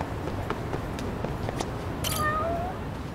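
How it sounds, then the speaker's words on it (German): In the Lost Judgment video game, a cat lets out a single drawn-out meow over a steady background of ambient noise and soft footsteps, close and clear, with no speech. "Halt, meine Katzen!"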